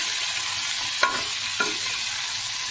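Vegetables sizzle and fry in a pan with salt and turmeric, a steady hiss broken by two brief stirring clinks or scrapes, with no talking.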